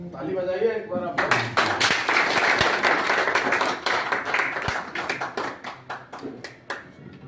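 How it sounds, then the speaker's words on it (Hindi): Audience applause at a block office inauguration ceremony, a crowd clapping steadily for several seconds and then thinning into scattered claps, with background chatter underneath. "ताली बजाइए एक बार आप।"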